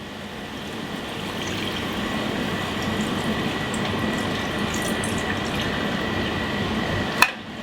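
Tamarind liquid for a curry pours steadily into a pan, a continuous watery splash and trickle held at an even level, closing with a single sharp clink near the end.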